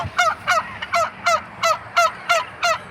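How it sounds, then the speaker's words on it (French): A turkey calls eight times in a steady rhythm, loud and close, on a farm where ducks and geese are also kept; no one speaks. "il y a des oies, je crois que c'est des dindons, ça, non? C'est des dindes"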